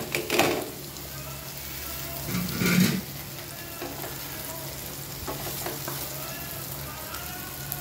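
Vellore brinjal fry cooking in a pan, a steady low sizzle with a few louder scraping stir strokes near the start and in the middle, close and clear with no talking.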